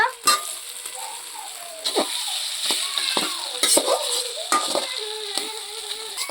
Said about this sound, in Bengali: আলুর সাথে মশলাটাকে ভালোভাবে ভেজে নিব।